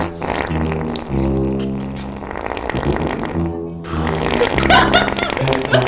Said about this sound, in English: I farted.